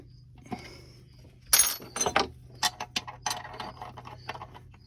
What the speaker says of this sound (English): take a wrench to loosen this up